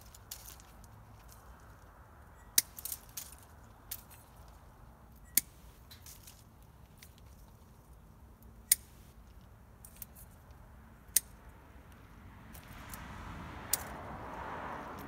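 Pruning shears cut growth from an espalier apple tree, sharp isolated snips spaced a few seconds apart, close and fairly faint against quiet outdoor background.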